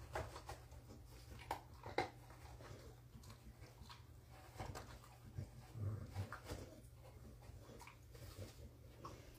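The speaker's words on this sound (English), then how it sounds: "searching and sniffing and being thorough" A dog sniffs around close by, short quick snuffles and breaths coming in irregular bursts over a quiet background.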